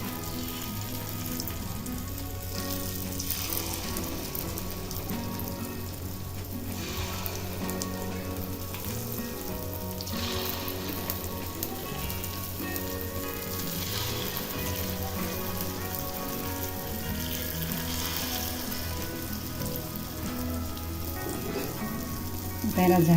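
Rice appe batter sizzling in hot oil in an appe pan, a steady crackling fry running continuously at close range with no talk over it.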